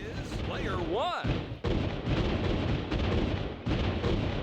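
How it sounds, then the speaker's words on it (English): Fireworks go off in a skateboarding video game: a rising whistle sweeps upward, then booming bursts and crackling explosions follow in quick succession, loud and close. "See these fireworks?"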